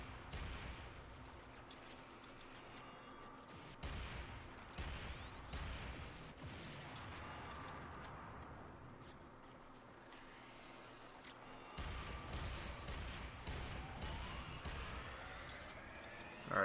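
Turret gunfire in the video game Warframe, a steady clatter of repeated shots with sharper bursts around four and twelve seconds, mixed into continuous game sound.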